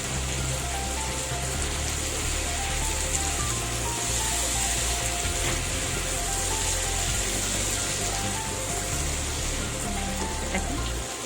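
A spice paste of ginger, garlic and cumin fries on an induction cooker with a dense, steady sizzle and crackle that continues evenly throughout, with no voices.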